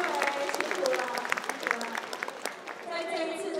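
An audience at a political thank-you tea party in Taipei claps steadily with dense, continuous applause while a voice speaks over it.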